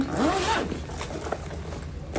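A zipper on the pocket of a sewn crossbody bag is pulled open in one quick, close rasp, followed by faint fabric rustling and soft handling noises.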